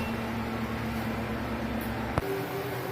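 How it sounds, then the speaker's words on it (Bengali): A kitchen stove is lit while cooking chicken with bitter gourd: one sharp ignition click lands near the end, set against a steady low hum and whir that shifts slightly once it catches. No voices. "এখন আমি চুলাটা ধরিয়ে দিচ্ছি।"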